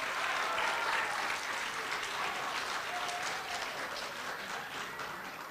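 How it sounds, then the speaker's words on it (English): Audience clapping for a Florida senator at a Senate simulation, steady sustained applause that slowly fades toward the end. "can we get a round of applause for one more senator, Senator from Florida?"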